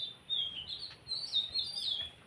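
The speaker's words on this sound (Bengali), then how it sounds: "পাখিগুলো ডাকতেছে সন্ধ্যার সময়।" Small birds chirp and call over quiet village rice fields at dusk, thin high tweets coming in short bursts at moderate distance, with no voices.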